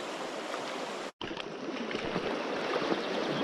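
A shallow, low-flowing river runs over stones in a trout stream, giving a steady close rush and trickle, broken by one brief cut of silence, with no talk.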